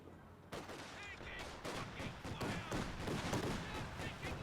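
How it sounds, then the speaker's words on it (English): Light gun fire in a Company of Heroes 2 battle, a steady stream of rapid shots with dense gunfire and explosions filling the soundscape, loud and continuous with no speech over it. "The light gun's firing, trying to neutralize these Dushkas before they get into good position."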